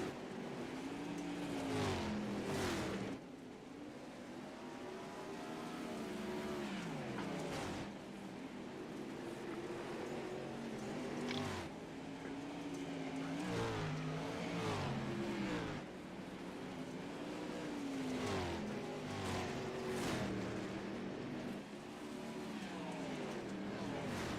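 Race cars circling the track in the iRacing sim during a league championship race, engines droning and revving in repeated waves as cars pass, under ongoing commentary.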